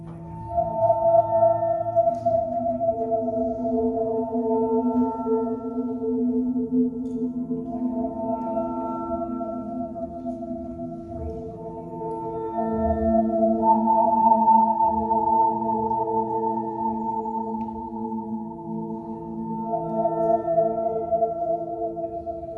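Quiet, contemplative New Age ambient music with soft sustained tones that drift and overlap slowly, gentle and even throughout with no voices.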